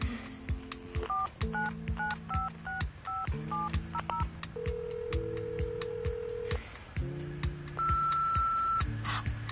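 A telephone being dialed to call someone's mother, giving a rapid series of close, clear DTMF key tones with short ringing pauses between clusters and a longer steady tone in the middle.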